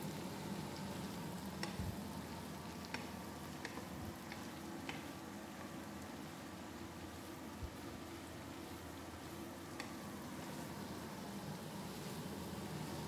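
Cabbage, leeks and spring onion greens sautéing for barnyard millet pittu kothu, a faint, even sizzle with occasional soft clicks of stirring, no talking.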